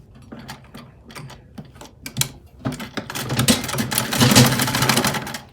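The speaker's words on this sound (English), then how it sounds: "I'm just going to pull it like so and top stitch on it to keep them together" A sewing machine top stitches gathered fabric on an off-shoulder bodycon gown with long sleeves, starting in short stop-start bursts and then running into a louder continuous whir, close and alone.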